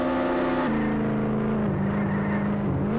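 A fast car in the Roblox game Jailbreak drives steadily, its engine holding a strong, smooth tone that shifts down in pitch partway through and then climbs again, loud and alone.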